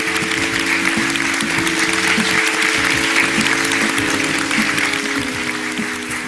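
Steady, dense clapping from a TV studio audience and hosts on a matchmaking show, continuous and fairly loud for the whole stretch, with faint talk underneath.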